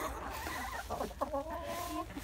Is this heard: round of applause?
no